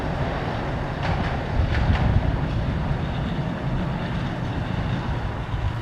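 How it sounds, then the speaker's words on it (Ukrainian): A tram rolls past behind the listener near an abandoned camp in a forested area, a steady low rumble and rattle of wheels on rail mixed with wind noise, swelling slightly midway and holding at moderate loudness. "І трамвайчик нам в спину їде."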